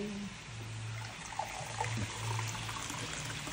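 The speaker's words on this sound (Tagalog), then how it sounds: "ay lalagyan na natin siya ng tubig" Water trickles steadily into a pot of chicken and potato curry, a low continuous pour with a faint hum underneath, no voices.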